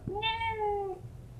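A domestic cat lets out one clear, drawn-out meow close by, with a rising start and a slowly falling finish, in an otherwise quiet room.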